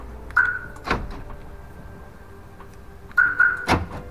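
A Toyota Vios limo with a newly fitted alarm and central locking gives short electronic chirps followed by solid thunks of the locks actuating, the sequence occurring twice with a quiet pause between, close by.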